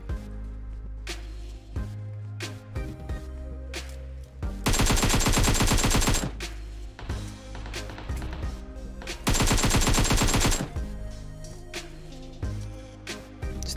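Gunfire in the mobile battle-royale game PUBG Mobile: scattered single shots and short bursts, then two long rapid automatic volleys, loud and close with no talking.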